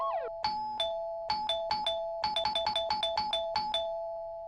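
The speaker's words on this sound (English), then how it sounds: "Whoever was ringing my doorbell was really, really persistent." A doorbell in the horror video game Corpse Party: Blood Drive chimes over and over in a persistent two-tone ding-dong, the presses coming faster and overlapping toward the end.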